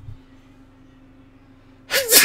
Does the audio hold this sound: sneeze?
yes